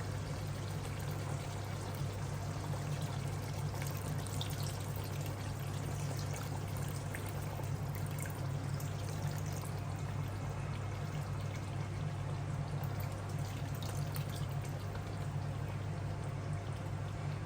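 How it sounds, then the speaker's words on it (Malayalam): First coconut milk poured steadily into a Kuttanad-style duck curry simmering on a low flame, a continuous, even liquid stream that runs unbroken for the whole stretch under a low steady hum, with no talking. "നമുക്കിനി 1ാം പാല് അതിലേക്ക് ഒഴിക്കാം."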